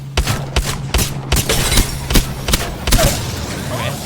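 Rapid shotgun blasts from the EVA-8 with a boosted loader in Apex Legends, about ten loud, sharp shots in a quick, slightly uneven rhythm, close and dominant with no talking.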